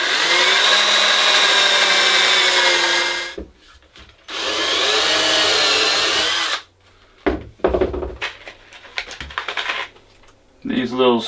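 A power drill drives long screws through L brackets into a wooden bunk bed guardrail in a cabin bedroom, two sustained whining bursts of about three seconds each, close and loud, followed by clattering handling knocks and a short final whir.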